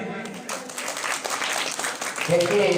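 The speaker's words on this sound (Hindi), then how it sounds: "ताली बजा दीजिए।" Audience members clap briefly at a shoe distribution ceremony, the applause fairly close and mixed with voices, ending abruptly.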